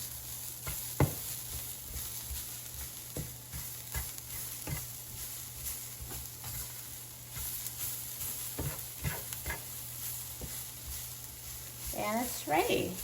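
A spatula stirs sautéed cabbage and carrots seasoned with salt, black pepper and garlic powder in a pan, giving faint, scattered scrapes and taps over a soft sizzle and low steady hum.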